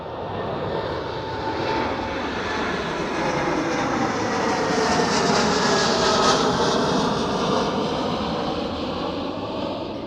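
KLM Boeing 787 in new livery departing Schiphol Amsterdam, a loud continuous jet engine roar that swells and holds steady throughout, close and alone with no voices.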